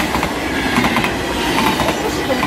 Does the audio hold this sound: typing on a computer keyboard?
no